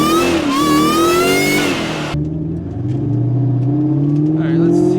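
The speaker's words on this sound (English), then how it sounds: "Now we have a nice little setup with supercharger noises." A supercharged car engine revs up with a rising whine, then drops to a steady, lower hum that climbs again. It is loud and close, and there is no talking.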